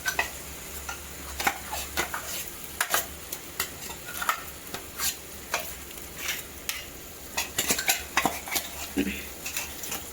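A spoon stirs masala into a chicken curry in a metal pan, giving repeated sharp scrapes and clinks in an irregular rhythm over a faint sizzle, close by and with no talk.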